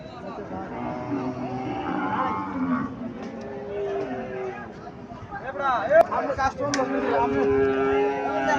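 Sahiwal beef cattle moo at the Chandimura cattle market in Cumilla, with several long, loud lowing calls rising over a background of crowd chatter and nearby talk.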